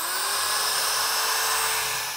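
A power drill whines steadily, boring a pilot hole for drywall screws while a Hollywood flat is built, a close, loud, continuous high-pitched drone with no talking.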